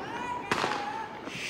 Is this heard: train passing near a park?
no